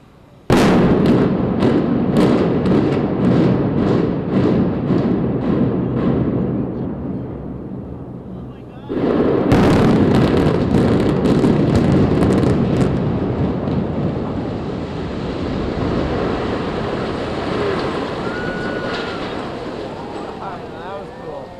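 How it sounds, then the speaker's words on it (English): A rapid string of sharp, distant blasts from a building demolition pops off in sequence, about ten quick explosions. A heavier boom follows as the structure collapses, with a long, rolling rumble that slowly fades. "we should hear those 10 quick pops, those 10 quick explosions"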